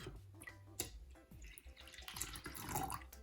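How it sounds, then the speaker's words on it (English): Hot water is poured into a half cup of milk in a home kitchen while making Guyanese sweet bake dough, giving a close, steady trickle and light splashing with no talking. "I'm going to add the half cup of hot water into the milk."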